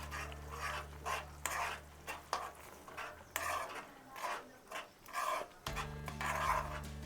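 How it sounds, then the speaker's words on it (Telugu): Curd is stirred into egg curry in a pot on a low flame, with soft, repeated scraping and rubbing strokes of a spoon against the pan, quiet and close, over a low steady hum. "బాగా మిక్స్ చేయాలి మనం పెరుగుని"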